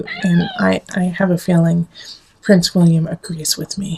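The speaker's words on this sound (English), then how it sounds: "And you can hear our little kitty talking to you too." A pet cat meows repeatedly up close, its cries overlapping and alternating with a person's steady talking.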